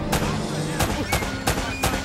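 Sniper rifle shots in Uncharted: Drake's Fortune crack out four times at roughly even intervals, sharp and moderately loud over a busy rumbling game background.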